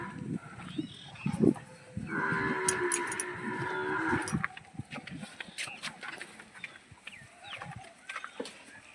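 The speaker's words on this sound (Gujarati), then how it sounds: "તો મારી ગાયો ચરીને આવી ગઈ છે" Cows back from grazing low loudly nearby, one long sustained moo dominating the middle, amid rustling, shuffling livestock and other farmyard noise, with a brief voice in the background.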